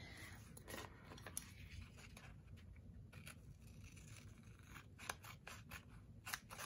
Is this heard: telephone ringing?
no